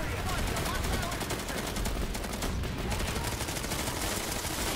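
Rapid gunfire from a Vanguard tank battering a repair center in a video game, a dense continuous barrage of shots filling the whole stretch at steady high loudness.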